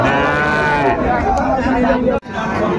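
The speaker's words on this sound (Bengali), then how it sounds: "এখানে ছোট্ট ছোট্ট ষাঁড় বাচ্চা সংগ্রহ করছে মাঝারুল ভাই।" Young bulls and calves moo loudly and repeatedly up close at Ambari cattle market in Dinajpur, Bangladesh, while people chatter in the background, with a brief break near the end.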